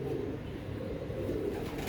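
Domestic pigeons of a fine fancy breed cooing softly in a steady low murmur, with faint background noise and no clear talk.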